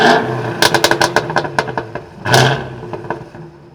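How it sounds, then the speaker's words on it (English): Cadillac Blackwing sedan with its exhaust in V mode, giving a deep grumble: a quick run of sharp revving blips and pops, then one longer loud rev swell with a few crackles as it fades. "now it is in V mode. It's got a lot deeper grumble to it."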